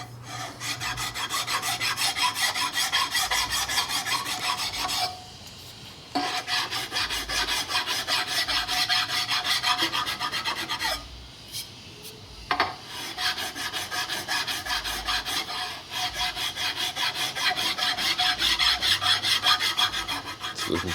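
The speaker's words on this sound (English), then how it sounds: "You pull out the body file." Hand body file rasping across a Harley-Davidson Sportster Ironhead cam cover (1971–76 XL), cutting it down into a bobber-style cover; steady, close, continuous scraping strokes with two short pauses, no talk.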